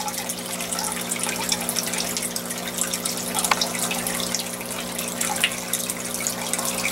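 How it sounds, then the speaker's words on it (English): A garden pond pump circulating water in an outdoor fish pond, a steady continuous wash of running, trickling water with a low tonal hum underneath, constant and fairly close. "the rest of it is all the pump running it through the garden"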